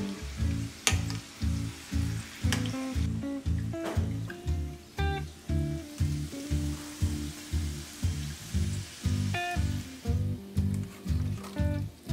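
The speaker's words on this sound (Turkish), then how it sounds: "Açtığımız hamuru kızgın yağda altın sarısı rengini görene kadar arkalı önlü kızartalım" Rolled-out börek dough crackles and sizzles steadily in hot oil in a pan, with a regular pulsing rhythm throughout.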